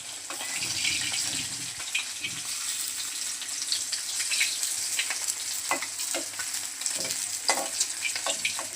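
Koi fish fry in oil with a continuous crackling sizzle, punctuated by sharp spits and pops that grow busier in the second half, heard up close with no speech.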